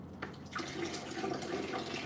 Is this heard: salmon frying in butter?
no